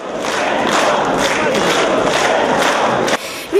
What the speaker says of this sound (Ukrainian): В залі третього президента України зустрічають стоячи та гучними оплесками